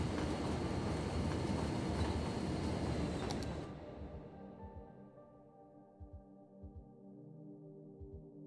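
Trains run in the city-building game Cities: Skylines: a dense rumbling rush of passing rail cars fades away, leaving a softer hum with a few low, evenly spaced wheel thumps.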